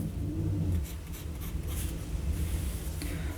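A Jinhao 95 metal fountain pen with a fine nib writes on paper, giving a soft, continuous scratching and gliding from close by, with no speech.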